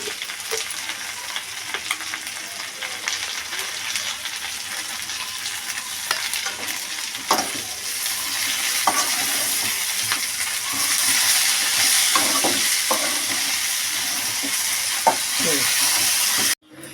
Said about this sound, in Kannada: ಇವಾಗ ನೋಡಿ ಟೊಮೆಟೊ ಹಾಕ್ತಾಯಿದ್ದೀನಿ. ಸ್ವಲ್ಪ ಉಪ್ಪು ಹಾಕ್ಬಿಡ್ತೀನಿ, ಬೇಗ ಫ್ರೈ ಆಗುತ್ತೆ ಟೊಮೆಟೊ ಅಂತ